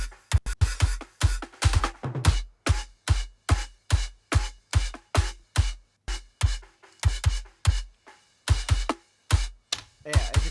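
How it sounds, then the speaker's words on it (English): Snare drum captured with and without its bottom microphone, heard in a rock session as a steady run of sharp, crisp strikes over low drum thumps, close and loud with no talking. "With the snare bottom"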